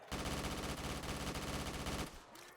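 Sustained automatic AK rifle fire in a video game, a dense continuous roar of rapid shots for about two seconds before cutting off abruptly.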